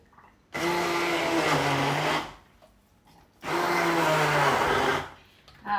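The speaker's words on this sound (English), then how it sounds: "Anyway, they go into the blender." A blender whirs loudly in two bursts of about two seconds each, blending juice tangerines, separated by a short pause.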